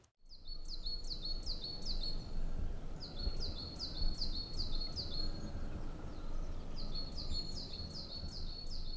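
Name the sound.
various birds calling in valley wetland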